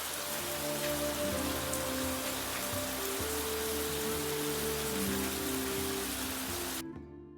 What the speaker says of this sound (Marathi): मातीच्या कौलारू घरावरून टपटप ओघळणारे पावसाचे थेंब